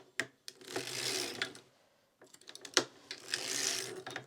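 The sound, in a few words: circular sock knitting machine being cranked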